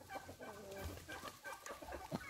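A rooster among hens on a farm clucks and crows in short, close bursts, with scattered bird and barnyard noise around it and no talk.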